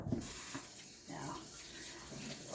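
Tap water runs steadily into a kitchen sink for handwashing while preparing a Sunday dinner, a continuous close splashing hiss that holds through the whole moment with no talk over it.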